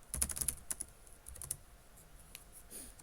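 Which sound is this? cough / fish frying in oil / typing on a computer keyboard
typing on a computer keyboard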